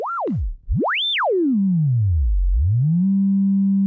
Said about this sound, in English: There's our sine wave, triangle wave, square wave, wavefolder.